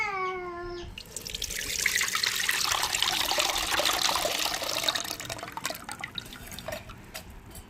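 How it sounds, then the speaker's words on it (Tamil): About fifty grams of tamarind water is poured into a karavalai fish curry. The pour makes a close, continuous splashing gush that follows a brief tone at the start and tapers off gradually, with no talk. "ஒரு ஐம்பது கிராம் புளிய கரைச்சி வச்சுருக்கோம் சேர்த்துக்கிடுவாங்க"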